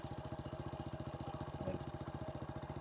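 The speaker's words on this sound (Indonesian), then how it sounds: "bunyinya sepertinya original ya. Bunyinya khas Honda Win." A 2001 Honda Win motorcycle idles with its original exhaust, a steady, rapid, even chugging from a small single-cylinder engine heard close and alone.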